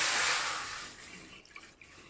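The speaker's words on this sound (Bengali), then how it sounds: "আমি এখন কড়াইয়ের মধ্যে দুধ দিয়ে দিচ্ছি।" Milk pours into a kadai (wok) for carrot and Gobindobhog rice kheer, a loud rushing splash at first that gradually thins to a softer trickle with a few small drips toward the end, no voices.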